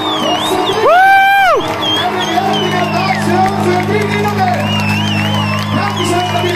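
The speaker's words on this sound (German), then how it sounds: "es ist einmal einen kräftigen Applaus wert für unsere Bedienungen" A festival crowd at a Bavarian Volksfest beer tent concert cheers and whoops for the serving staff, with loud shouts and whistling rising over a steady background hum of the hall.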